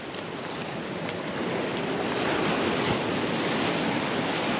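Sea surf rolls continuously at the shore during a fishing session, a broad steady wash that swells slightly louder midway, with wind buffeting the microphone and no voices.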